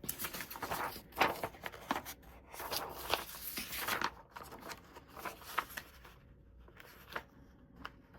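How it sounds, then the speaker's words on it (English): Paper scissors cutting through a paper sneaker pattern, a close, quiet run of irregular snips and crisp rustling as the sheet is handled and cut, continuing steadily for several seconds. "And then I'll grab my scissors"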